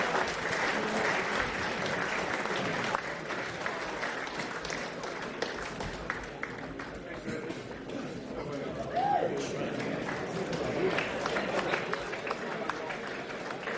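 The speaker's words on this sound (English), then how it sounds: "And you can applaud him as he comes up if you wish." An audience at a Middlesex County Cricket Club 150th anniversary Q&A session applauds steadily and loudly for the full length as a club president comes up to present caps, with a faint murmur of voices underneath.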